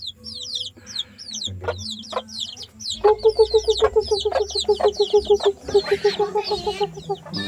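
Red junglefowl chicks chirp in rapid high peeps while a hen clucks in a quick, regular run close by, the calls overlapping continuously throughout.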